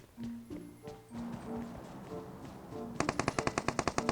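Gunfire in the PUBG Mobile video game: scattered single shots, then a fast, loud burst of automatic fire near the end, with hoof-like clatter underneath.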